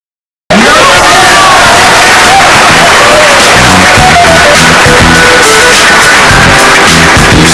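A large crowd in a pool arena roars and cheers after a match, a loud, dense wash of voices and applause that starts abruptly and continues without a break.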